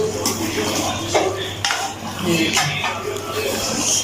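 Lahori chicken kofta being dished out from the pan: close metallic scrapes and clinks of a spoon against the pan, arriving in short bursts over a light background hum.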